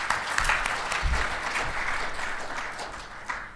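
An audience at a symposium applauds, a steady wash of clapping from many hands that holds evenly and fades slightly toward the end.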